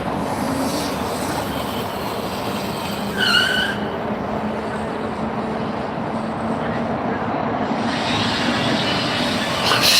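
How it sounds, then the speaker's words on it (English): A car doing burnouts outside an immigration enforcement facility during a protest in Portland, Oregon, with a sustained loud tire squeal and engine roar heard from a distance and brief shouts from the crowd. "they're doing burnouts"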